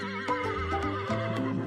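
A brown horse lets out a loud, wavering whinny lasting over a second, with a quieter clip-clop of hooves and soft background music.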